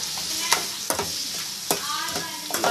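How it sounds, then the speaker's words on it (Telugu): Onions fry in oil in a pan with a steady, close sizzle, broken by several sharp scraping strokes of a spoon stirring them, with no voices. "ఆనియన్స్ కూడా ఆయిల్లో బాగా మగ్గిపోవాలండి."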